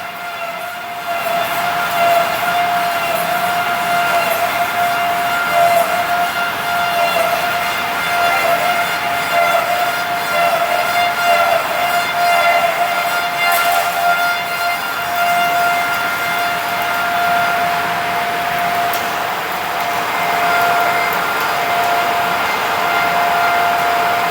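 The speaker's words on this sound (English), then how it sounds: "The machine is starting the finish cutting." CNC machine performing a very fine-step finish cut on a component, giving a steady, loud whine with a sustained tone that runs unbroken throughout and has no talk over it.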